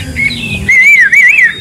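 A laughingthrush (khướu) sings close and loud, opening with a brief call and then a bright, wavering whistled warble that rises and falls over about a second.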